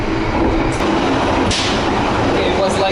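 Interior of a panoramic passenger train travelling to Bandung, Indonesia, with a steady loud rumble and rattle of the shaky carriage throughout, plus brief hissing bursts, under a faint voice in the background.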